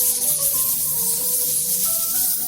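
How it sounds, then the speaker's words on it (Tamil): In the Poppy Playtime video game, a spider web spray lets out a continuous loud hiss, steady and close for the whole stretch, with faint shifting game tones underneath. "வா, ஓ ஹக்கி வக்கி மேல ஸ்ப்ரே பண்ணுவோம்."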